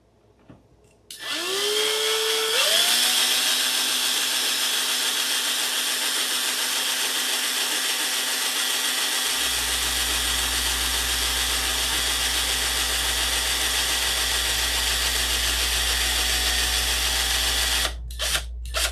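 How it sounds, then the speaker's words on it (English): A bulky Dremel rotary tool spins up and grinds steadily on a Sig Magnum, a loud high whine that holds for about fifteen seconds with a low rumble joining midway, then cuts off with a few brief clicks. "I hate this thing. This is the crappiest Dremel I got."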